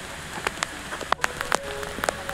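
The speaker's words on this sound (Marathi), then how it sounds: "पाऊस खूप आलेला आहे." Heavy rain pours outdoors in Wadala during a red crab hunt, drops spattering and tapping close by in an uneven patter over a soft hiss.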